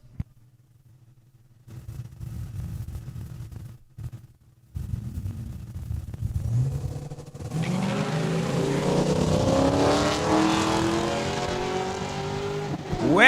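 A Magnum and a Superior Diesel Blazer stage at Saskatchewan International Raceway with low, burbling engine idles and brief blips, then launch into a loud, rising drag-racing roar that fills the rest of the run.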